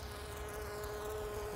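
A bee trapped inside a beekeeper's protective suit, giving a steady, close insect buzz that drones on without pause and stays fairly faint.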